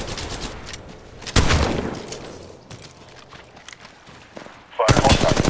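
Automatic weapon fire from the Apex Legends Mobile video game, loud bursts of rapid shots that start abruptly, fade into quieter fire and then return in a dense close volley, with game voice callouts mixed in.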